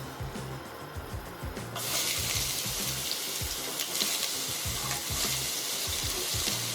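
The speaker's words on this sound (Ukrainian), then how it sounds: "Тепер обсмажуємо цибулю, поки вона не стане м'якшою і трошки прозорою." Onions fry in hot oil in a heavy-bottomed pot with a steady, crackling sizzle that swells louder after a couple of seconds, with faint stirring scrapes underneath.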